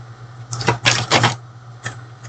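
Tarot cards are shuffled in several short, close bursts of papery riffling and tapping, separated by brief pauses over a faint steady hum.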